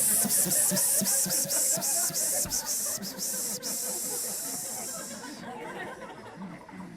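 A voice imitates the repeated hissing of a produce-department mist sprayer with a quick series of breathy psss bursts. Steady crowd murmur and laughter run underneath in a comedy venue.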